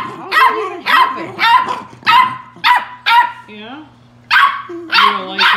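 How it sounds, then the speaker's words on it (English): A nine-week-old beagle puppy barks loudly in a series of about eight sharp, close bursts, with another beagle nearby; speech is also detected. "How can a 9-week old puppy be that loud?"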